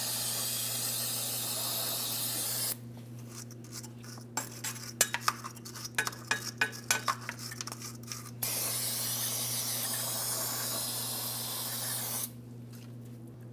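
Aerosol spray cleaning the threads of hardware for a 2007-2014 Ford Edge torque strut mount, with two long steady hissing bursts and a stretch of metallic clinks and taps between them, close and loud over a low hum.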